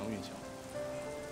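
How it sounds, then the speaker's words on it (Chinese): Heavy rain falls steadily on surfaces outdoors, a continuous dense hiss with no breaks, soft and somewhat distant. "你别说这么大雨了，再大点也不会。"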